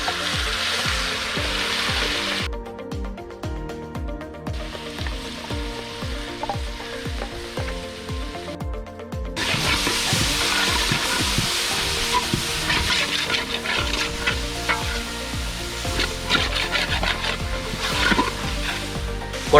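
A chili and turmeric mixture is poured into a hot pan for fish curry, setting off a loud, continuous sizzle with stirring clatter throughout, briefly dropping away twice before surging back stronger.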